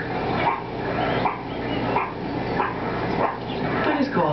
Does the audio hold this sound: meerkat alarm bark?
yes